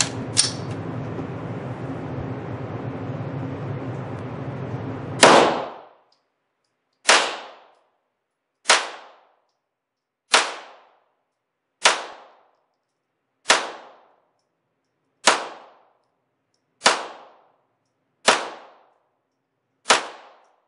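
Shots from a Browning Buckmark .22 pistol fired at paper targets on a range, nine sharp, evenly spaced cracks roughly two seconds apart, each ringing briefly, loud and close after a steady rumble of background noise.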